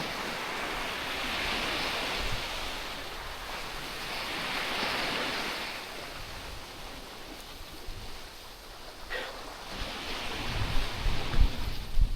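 Sea waves wash steadily onto a shore at dawn, a broad continuous surf roar with swells rising and falling and some wind rumble, growing louder toward the end, with no voices.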